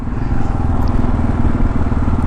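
A 2022 Kawasaki KLR 650 is ridden along with its engine droning loud and steady, blended with heavy wind rush and no breaks across the short stretch. No voices are heard.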